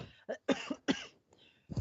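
A single woman's cough at close range, a few sharp bursts followed by a faint throat-clearing rasp, heard alone in a quiet indoor room.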